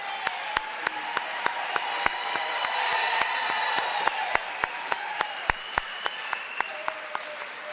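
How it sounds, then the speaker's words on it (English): An audience at a presidential summit on gender-based violence and femicide gives the President a steady round of applause, with crisp individual claps standing out over the dense clapping of the crowd. "Let's give him another round of applause."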